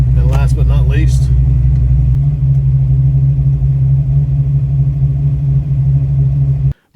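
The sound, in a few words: Fox Body Mustang exhaust with FlowMaster 40 mufflers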